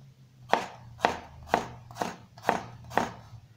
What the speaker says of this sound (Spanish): El corte del ajo va a ser muy sencillo, solamente va a ser delgadas láminas